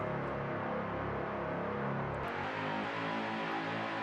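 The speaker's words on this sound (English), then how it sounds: "so I just kind of wrote this little synth line, bass line that the whole song is really centered around" Synth bass line from a long sample, a dense sustained electronic tone that shifts pitch midway, faint and alone without voices.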